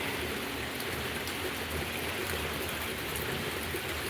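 Steady rain falls in North Georgia, a dense, even hiss of drops on surfaces that continues unbroken and fairly loud throughout, with no voices.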